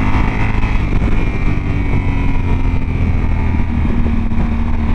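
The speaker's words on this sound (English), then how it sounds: "I'll just take it up the revs a bit." A Yamaha 1200 Super Tenere motorcycle engine runs at steady idle-to-moderate revs, a low rumbling drone with a constant hum, fairly loud and close, no talking.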